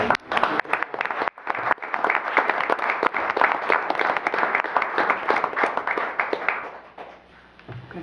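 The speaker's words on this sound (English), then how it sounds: "So please join me in giving Director Hannon a round of applause" Applause from a school board meeting audience for Director Hannon: steady, dense clapping from many hands in a room, holding strong for several seconds before thinning out near the end.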